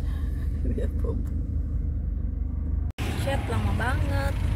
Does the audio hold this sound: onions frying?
no